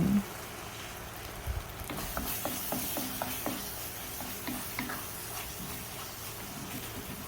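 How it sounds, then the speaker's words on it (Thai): Spinach curry seasoned with turmeric powder and ground coriander is stir-fried in a pan, giving a steady close sizzle broken by repeated scraping and clattering strokes of the utensil. "เราก็ผัดไปเรื่อยๆให้เขาสุกค่ะ"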